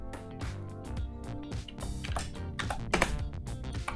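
Keys clatter on a computer keyboard in close, irregular bursts of rapid taps with short pauses between.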